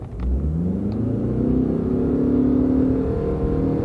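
A Ford pickup truck with a CVT transmission pulls away from a standing start, its engine rising into a loud, smooth, sustained drone without gear-shift breaks, heard close and continuous.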